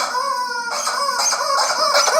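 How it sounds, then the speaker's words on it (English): A chicken clucks loudly and close in a quick run of nasal, honking calls, with no one talking over it. "It's guarded by the chicken."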